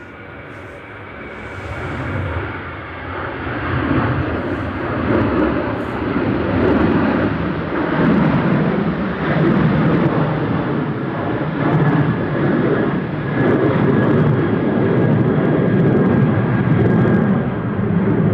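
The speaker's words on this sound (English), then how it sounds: "Got another Ryanair on approach coming in from Copenhagen." Ryanair airliner on approach to Manchester Airport on a gusty day, its engine roar swelling from faint to a loud, sustained rumble that dominates throughout, with wind buffeting the microphone.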